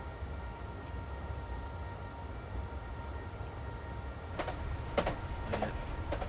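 A train in Train Simulator 2020 runs along the Brighton to London Victoria line in the UK, a steady low rumble of wheels on rails with brief clicks and clatter near the end.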